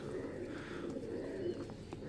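A soft-feathered pigeon coos in a low, quiet, continuous murmur while being held in the hand, close by with faint background noise.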